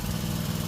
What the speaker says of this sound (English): I go ahead and leave the tractor running